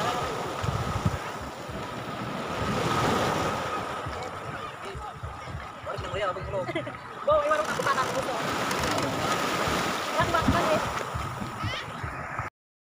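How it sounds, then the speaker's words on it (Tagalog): Wind buffets the microphone over rough surf and strong waves on Inasakan beach in San Jose, Occidental Mindoro, with people talking underneath. "medyo malakas yung alon at daluyong dito sa tabing dagat"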